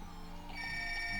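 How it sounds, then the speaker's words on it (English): A phone rings steadily in a quiet room, a bright electronic ringtone tone sustained and fairly loud throughout the short stretch, with no talking over it. "my phone is ringing there"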